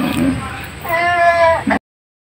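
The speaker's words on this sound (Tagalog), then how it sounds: "Ito yung mga iba't ibang uri ng kambing." Goats of several different breeds on a small farm, one giving a clear, loud drawn-out bleat near the middle with shorter calls at the start and end, up close.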